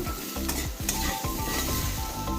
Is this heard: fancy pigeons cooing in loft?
no